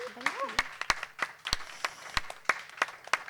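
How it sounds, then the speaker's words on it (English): A small audience claps with scattered, uneven hand claps, fairly close, as a voice speaks briefly at the start. "Give Malia a round of applause."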